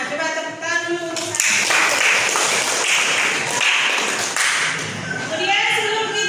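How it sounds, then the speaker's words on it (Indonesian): A classroom of students claps together for a brief burst of about four seconds, loud and close and enclosed by the room, with a teacher's voice heard just before and after. "Coba tepuk tangan dulu."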